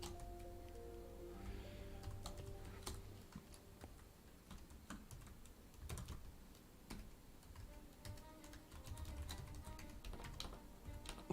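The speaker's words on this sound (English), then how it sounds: "Let me continue typing it." Steady typing on a computer keyboard, quick irregular key clicks and taps close by over a faint background hum, with no talk.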